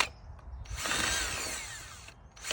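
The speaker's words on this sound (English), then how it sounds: "I'm going to drill holes in 4 of them." A power drill bores drainage holes through plastic seed-starting cups outdoors beside a garden, one steady whirring burst of about a second and a half, close and fairly loud, with short pauses before and after.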